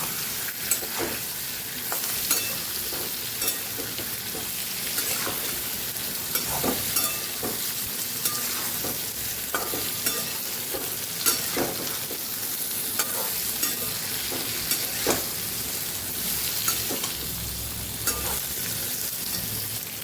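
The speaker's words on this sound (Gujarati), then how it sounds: "ભીંડાને આપણે સરસ સાતળી દેવાના છે" Okra for a Kathiyawadi-style stuffed okra dish is sautéed in a pan: a steady sizzle runs underneath while a spoon repeatedly clinks and scrapes, stirring in an irregular rhythm, close and fairly loud.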